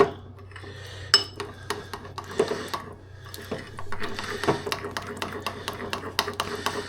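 A spoon stirs jam pie filling thickened with a teaspoon of starch in a bowl, making a rapid run of sharp metallic scrapes and clinks at close range, alone with no talk.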